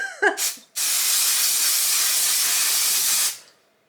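A short hiss of leave-in conditioner spray lasting a few seconds, close and steady, then stopping, after a brief faint rustle.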